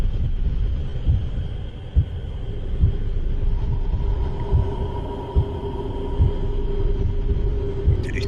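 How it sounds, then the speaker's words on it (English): A low, deep rumbling hum with a faint steady drone, presented as the Earth's heartbeat, is punctuated by soft, regularly spaced thuds roughly every second. "It's the Earth's heartbeat."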